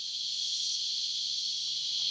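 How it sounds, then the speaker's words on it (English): A loud, steady wall of high buzzing cicada song fills the air continuously in the Botswana bush, with no breaks. "song of the cicadas. That is extraordinarily loud"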